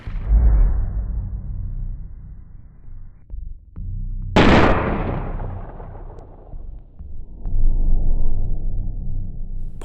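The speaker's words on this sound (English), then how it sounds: "Paul kept running when suddenly he started hearing gunshots" Gunshots ring out in a dramatized chase, loud booming blasts with heavy low rumble, one sharp crack midway followed by a long decaying tail, then a rumbling hum.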